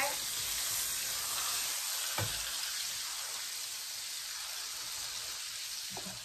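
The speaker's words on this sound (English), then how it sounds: "I'm going to sear the steak for 5 minutes per side on medium" Tomahawk steak sears on medium heat in a greasy pan, giving a steady broadband sizzle that runs evenly throughout with a couple of faint knocks of utensil or pan.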